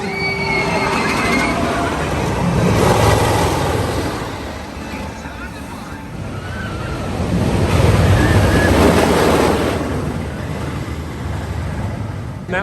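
Constant roar of wind rushing past while riding the Mystic Timbers wooden roller coaster at Kings Island amusement park, loud and buffeting, swelling and easing in waves over the ride.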